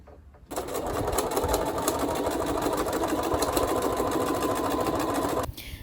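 A sewing machine stitching a hem on a garment starts abruptly, whirs steadily and rapidly for about five seconds close by, then stops suddenly, leaving quiet.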